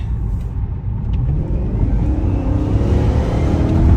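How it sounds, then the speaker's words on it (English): A 2002 BMW 540 M Sport's V8 drives along in a loud, steady rumble heard from inside the car, the engine note rising gradually as it pulls. "Let's see if we can hear the motor here a little bit."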